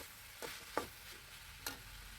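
Chikkudukaya (broad bean) curry stirred in a pan, a few distinct scraping strokes of a spoon over a faint background sizzle, close and alone.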